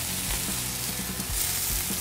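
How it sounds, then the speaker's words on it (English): Burger buns toast on a hot grill griddle with a steady, close sizzling hiss and a few soft crackles throughout. "we can fit our burger buns on the grill griddle as well. Just get a quick toast on them"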